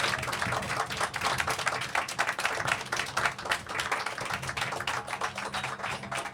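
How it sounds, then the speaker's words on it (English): An audience at a comics festival panel claps and applauds steadily for the panelists, a dense, sustained patter of many hands in a room with no one talking. "So can we get a round of applause for our incredible panelists?"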